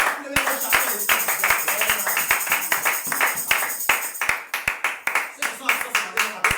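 A church congregation claps in a brisk, regular rhythm while loud voices call out acclamations over it, the claps sharp and close, with a sustained tone ringing beneath the first part.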